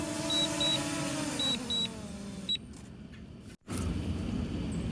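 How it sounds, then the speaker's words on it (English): A DJI Mini 2 drone descends to land, emitting repeated short high beeps in pairs over its whirring rotor hum, which winds down before a brief thud and a cut to steady ambient noise. "you'll hear it beep all the way until it hits the ground"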